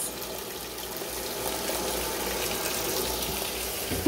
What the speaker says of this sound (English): You'll hear the washer start to run. You'll see water going in.